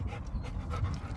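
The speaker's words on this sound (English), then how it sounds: "This is my dog." A dog named Ashka pants in quick, steady breaths close by, a soft continuous huffing with no talk over it.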